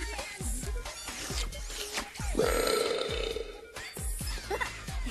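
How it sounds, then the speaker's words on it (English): A cartoon character burps after a sip of burping soda, a short, rough belch in the middle of the clip amid other brief vocal sounds, heard up close. "Ah, the latest burping soda formula. A guaranteed one burp per sip."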